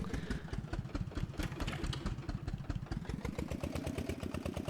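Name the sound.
John Deere tractor engine idling in Professional Farmer 2014 video game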